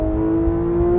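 Porsche 911 991.1 GT3 engine holding a loud, steady high-revving drone, strong harmonic whine over a rumbling low end, close and unbroken.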